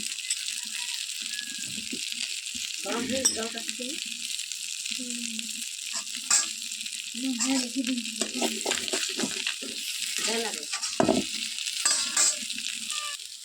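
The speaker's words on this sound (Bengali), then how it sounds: "একবার ঘুরাই দিই, এবার উল্টে যাচ্ছি, কড়াইতে উল্টে যাচ্ছি।" Fish, freshly caught from a river, sizzles and spatters steadily in oil in a wok while it is turned over, with scraping and stirring clatter throughout and a voice talking over it.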